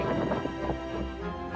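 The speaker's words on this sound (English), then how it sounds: "It is a rainy day." Rain falling in a forest on a hiking trail in Maui, Hawaii, a dense, steady rushing patter close by with low rumbling underneath, continuous through the short stretch.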